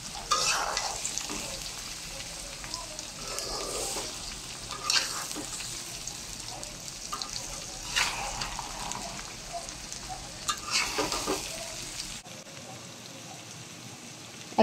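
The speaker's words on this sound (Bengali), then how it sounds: "এখন একটু তেল, পাঁচফোড়ন এবং মশলার সাথে মিশিয়ে নিতে হবে।" Ripe mango pickle being stirred in hot oil with five-spice and ground spices, a steady soft sizzle broken by scraping spoon strokes at intervals, close and alone, the frying hiss dropping away near the end.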